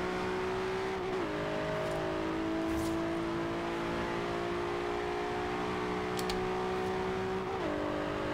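A 2012 Nissan GT-R Black Edition in Forza Horizon 2 revs hard with a sustained engine howl, rising in pitch and dipping at gear shifts near the start and end, loud and continuous with no talking.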